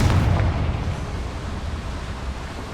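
A Confringo explosive spell goes off in Hogwarts Legacy, a loud, close, booming burst that decays into a long rumbling roar.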